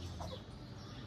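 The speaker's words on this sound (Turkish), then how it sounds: "Şöyle bağıran kuşlar var." Bird calls outdoors, a brief clucking, fowl-like cry over steady low background noise, fairly faint and distant.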